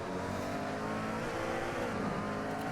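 McLaren race car in a sim racing game at Kyalami, engine droning loud and steady at high revs through a quick corner, with continuous harmonic whine and no talk over it.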